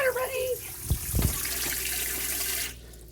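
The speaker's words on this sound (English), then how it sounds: "Sounds like I have the water running." Water rushes from a repaired water pump on a 1972/3 Columbia 30 boat: a steady, close hiss and splash with a couple of dull knocks near the start, ending abruptly when the flow stops.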